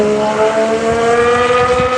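A race car braking hard into turn one at Barcelona in a racing game, its engine a loud, steady, tonal whine with slight wavering pitch, close and continuous with no voices.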